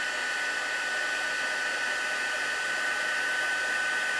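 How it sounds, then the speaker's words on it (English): A craft heat tool used for card-making blows hot air in a steady, continuous whooshing hiss, close and even, with no talking. "So heat tool is already warm, so it's going to do a little bit faster job for this one."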